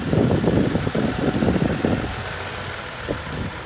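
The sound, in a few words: 2017 Toyota Tacoma engine idling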